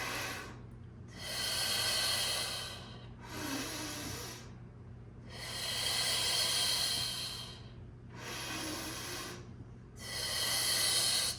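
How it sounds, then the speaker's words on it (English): Slow, deep breaths in and out come close and soft as a hiss, four or five long cycles in an even rhythm with short pauses between them during an upper-body alignment exercise. "Inhale as you return, and then exhale to the sternum."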